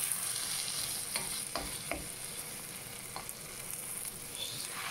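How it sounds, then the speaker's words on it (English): Chillies frying in a pan for chilli sauce, a constant bright sizzle with occasional faint stirring clicks and scrapes, steady and unbroken. "Right, all the chilies in. So we'll fry them for a bit."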